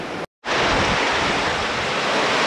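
Sea surf roars beside Kaurati's cave on the North Goa coast, a loud, unbroken wash of breaking waves with heavy wind buffeting, interrupted by a brief dropout near the start.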